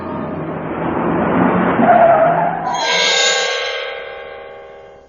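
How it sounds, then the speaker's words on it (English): A truck speeding away in an audiobook sound effect: an engine roars and tires squeal loudly, then the vehicle pulls off with a rising, fading whine as it drives into the distance. "They jumped in their truck and sped away."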